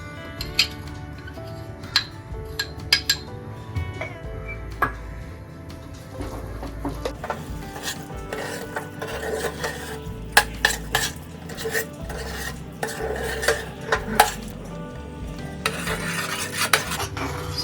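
A spoon stirs mashed lentils mixed with jaggery powder in a metal pot, producing continuous scraping and clinking against the sides at a close, steady pace with no voices.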